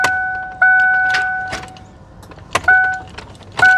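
A starter whirs in short bursts as someone tries to crank the engine of an abandoned limousine. The attempts come close and loud, each starting with a sharp click and a whine, with quiet gaps between them.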